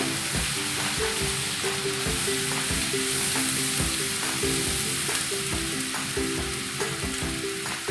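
Egg and eggplant bharta being sautéed in a pan with turmeric and salt, a dense constant sizzle overlaid with rhythmic scraping and knocking of a spatula stirring repeatedly against the pan.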